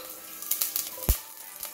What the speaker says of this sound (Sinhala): ඊට පස්සේ තෙල් ටික රත් වෙනකොට ඒකට උළුහාල් ටිකයි කුරුඳුයි එකතු කර ගන්න.